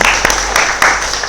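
An audience applauds during a Q&A with a Carmelite priest, with a short burst of loud, close clapping and a few sharper claps standing out.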